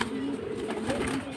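Domestic fancy pigeons such as Silver Hammer, kept by a breeder, give a low, close cooing, with a brief murmur of voices in the background.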